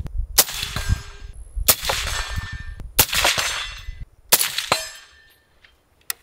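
Four or five rifle shots at a steel target 100 yards out, each a sharp, loud crack followed by a ringing clang, evenly spaced, with a quiet tail at the end.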